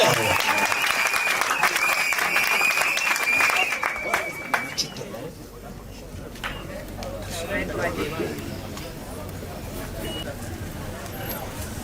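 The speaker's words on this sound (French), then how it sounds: "On applaudit plus fort que ça, s'il vous plaît." Wedding guests at a customary marriage ceremony clap loudly together, dense applause for about four seconds that then thins into scattered claps and crowd chatter.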